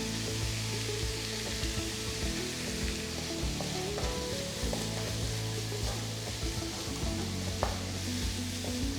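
Onions with a pinch of salt sauté in a pan for dhaba-style paneer masala, giving a steady close sizzle with occasional stirring scrapes, continuous and fairly even throughout, with no talking.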